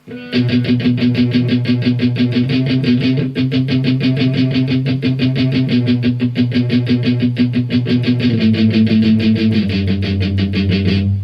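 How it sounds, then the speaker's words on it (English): An electric guitar chugs through a heavy, palm-muted riff in steady, tight downstrokes, loud and close, shifting to lower notes toward the end. "really heavy palm muting through the entire thing there then"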